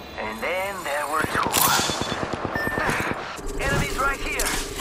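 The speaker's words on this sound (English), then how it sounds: "Firing." Rapid automatic gunfire from Apex Legends, a burst of evenly spaced sharp shots lasting about two seconds and mixed with game voice lines and effects before and after.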